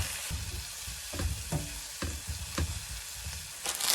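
Squid stir-fries in a pan in a campervan kitchen with a loud, continuous sizzle close up, broken by repeated scraping clacks of a utensil stirring and tossing the pieces.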